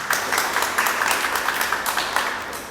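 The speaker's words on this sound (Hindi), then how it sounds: "एक बार इस मंच के लिए बहुत ज़ोरदार तालियां हो जाएं।" A live audience applauds a Hindi poetry stage in Jaipur, steady dense clapping sustained throughout at a fairly close, even level.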